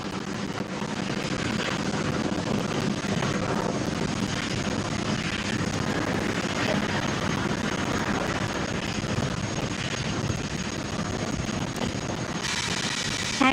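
A SpaceX rocket lifts off and climbs for the International Space Station on a cargo resupply mission, a steady, dense roar of engine noise filling the whole stretch without pause, with no talk over it.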